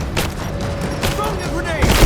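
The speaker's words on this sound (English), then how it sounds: "Give me suppressing fire! Now! Covering fire!" Suppressing gunfire during a firefight in Rise of the Tomb Raider, heard as a dense, continuous clatter of shots with sharp bursts near the start and end, running under shouted voices.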